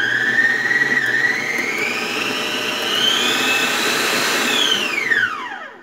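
An Arno planetary stand mixer with an imported motor whines loudly and steadily close by, its pitch rising slightly as it runs. Near the end the motor winds down and spins to a stop, with no talking.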